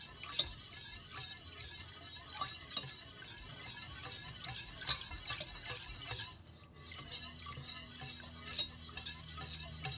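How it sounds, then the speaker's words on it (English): Creamy alfredo sauce bubbles and simmers in a pan over raised heat, a steady close sizzling hiss with light scraping and stirring clatter throughout, briefly dipping quieter midway before resuming. "And just let it simmer."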